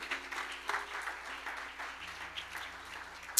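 A church congregation gives a faint, distant round of applause, a soft patter of clapping in a reverberant room with a sharp click at the very end.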